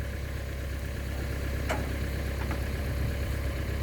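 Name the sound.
tractor engine idling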